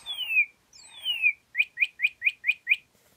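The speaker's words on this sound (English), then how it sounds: "Can you whistle like the birds do?" Two long descending whistles followed by a quick run of six evenly spaced chirps, clear and close against a quiet background, birdlike and thin in tone.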